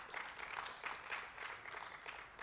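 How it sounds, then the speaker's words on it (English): Applause at a women's literary festival event: a crowd of hands clapping steadily, with a dense, slightly distant patter that rises and falls in small waves while no one speaks. "all claps for Ms. Seema Saxena to accomplish such a tall order all by herself."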